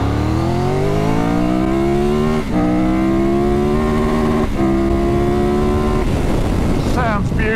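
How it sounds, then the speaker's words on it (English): A new Triumph Tiger 1200 GT Pro motorcycle revs hard in first gear, its airbox roaring loudly as the engine pitch climbs through several smooth gear-rising pulls with brief dips between, close to the microphone. "Loads of lovely engine box roar, you know, noise from the airbox"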